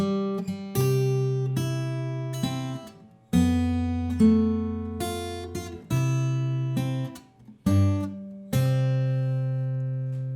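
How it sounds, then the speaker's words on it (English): Acoustic guitar chords ring out one after another, with low thumbed bass notes under each strum, playing Happy Birthday, clear and unaccompanied with pauses between changes. "I'm just using my thumb to add in a bass note."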